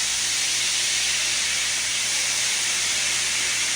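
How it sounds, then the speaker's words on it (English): Steam hisses loudly and steadily from a hot pan being deglazed on a stovetop, a continuous bright sizzle with no talk. "Only steam, thank goodness."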